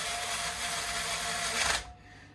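A power driver whirs steadily for nearly two seconds while turning screws on a Squier Affinity Stratocaster during a setup, close and continuous before it cuts off abruptly into quiet.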